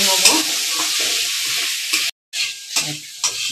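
Chicken momo filling of cabbage and capsicum gets stirred in a hot pan, with close scraping and stirring strokes over a steady, bright sizzle that cuts out briefly before picking back up.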